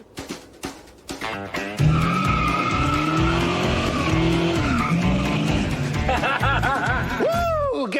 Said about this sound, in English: Let's do some burnouts.